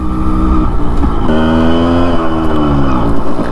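A Yamaha RX100 motorcycle engine drones loudly while riding on an empty road, its two-stroke pitch climbing and shifting as the rider accelerates, steady and close throughout.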